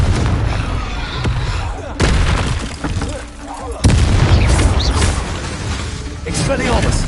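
Explosive Confringo spell blasts in the video game Hogwarts Legacy, with several sharp booming bursts and crackling impacts spread through a noisy magic duel, with a voice talking over the fight.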